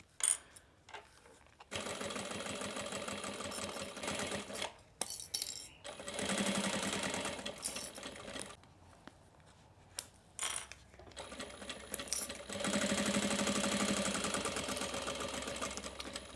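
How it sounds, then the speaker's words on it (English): A home sewing machine stitches a crossbody bag in steady runs, its motor whirring loud and close for several seconds at a time, with short pauses and clicks between bursts of stitching. "At the end, I'm just going to back stitch a little bit."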